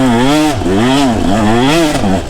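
A KTM 150 enduro two-stroke dirt bike on a trail. Its engine is loud and close, rising and falling through several quick revs, with a buzzy, rasping note and no voices.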